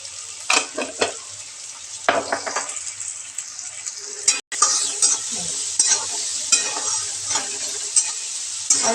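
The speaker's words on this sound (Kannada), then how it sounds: "ಅರಿಶಿನ ಉಪ್ಪು ಹಾಕೊಂಡು ಇವಾಗ ಫ್ರೈ ಮಾಡಿಕೊಂಡು 1 ನಿಮಿಷ ಅಷ್ಟೇ ಫ್ರೈ ಮಾಡಿಕೊಂಡು" Okra fries in a pan with turmeric and salt, a steady bright sizzle running throughout, broken by repeated scraping stirs and soft clinks against the pan. A brief dropout occurs midway.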